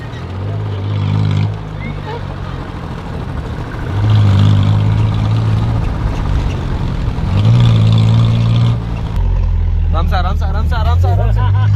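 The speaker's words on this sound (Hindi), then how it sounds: "दोनों इंजन एक साथ पावर में आएंगे" Engines of two cars joined together into one 4x4 rumble loud and close, surging in two rev swells over a steady drone, with people talking throughout.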